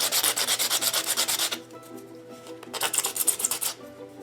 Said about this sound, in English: You want to get that sand down, all the way down.